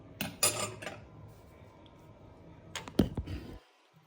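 A spoon scrapes and clatters in a pan as fried mashed potato is stirred for vada pav, with a few sharp metallic knocks over steady, soft scraping.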